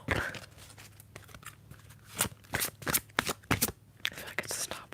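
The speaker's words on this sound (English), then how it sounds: "I'll pull for myself from this deck" Oracle cards being shuffled by hand, a quick run of papery riffles and slaps that comes and goes in close bursts with small gaps, recorded up close in a quiet room.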